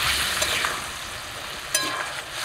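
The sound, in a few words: frying potato and cauliflower with spice paste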